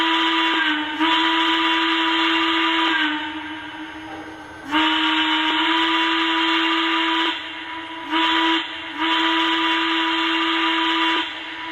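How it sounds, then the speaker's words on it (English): Steam whistle sound effect from a Lionel 2-8-8-4 EM-1 model train locomotive, sounding as a loud, steady hissing whistle in several long blasts with short breaks and brief cut-offs between them. "this engine has the whistle steam smoke effect"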